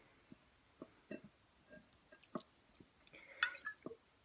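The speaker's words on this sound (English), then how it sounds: "I'm going to pour my liqueur right over it so I get a little bit more of that sugar off." Liqueur trickling over sugar, heard as a quiet run of separate wet drips and soft squishy ticks, irregularly spaced, with one brighter splashy burst near the end and no talking.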